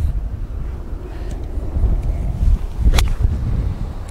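Strong wind buffeting a microphone on a golf course, a steady low roar that swells louder in the second half with a sharp gust near the end.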